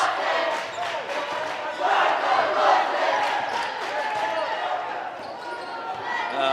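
The crowd in the stands at a high school boys' varsity basketball game makes a sustained, loud roar with voices rising together, while an announcer talks over the noise.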